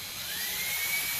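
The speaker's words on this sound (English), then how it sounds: "Yeah, I have to use a drill." A power drill bores into metal while installing a new air-conditioning supply, giving a steady, loud, high whine that rises slightly in pitch and runs without a break.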